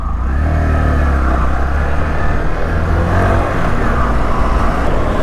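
A Bajaj Platina 110 ABS, a 110 cc BS6 motorcycle, pulls away in first gear, its engine droning loud and close with a steady rumble throughout and no talk over it.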